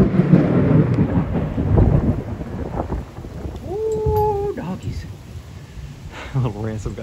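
Rumbling thunder rolls through a Texas rainstorm over steady rain noise, with a horse whinny rising briefly in the middle and another animal call near the end.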